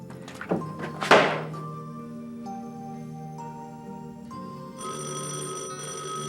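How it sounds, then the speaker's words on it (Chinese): A sharp thunk, then a steady electronic telephone ring that keeps sounding at an even level, fairly close by. "电话来"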